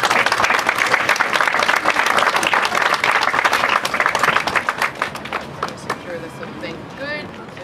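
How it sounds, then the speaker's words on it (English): An audience at a Baltimore City press conference breaks into sustained applause, dense clapping from many hands that gradually thins out, with voices rising faintly near the end. "Please give a round of applause."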